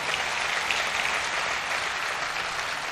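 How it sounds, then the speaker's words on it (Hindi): An audience at a comic poetry recital breaks into loud, sustained applause, a thick even roar of many clapping hands throughout. "लेकिन आपकी तालियों में जोर होना चाहिए"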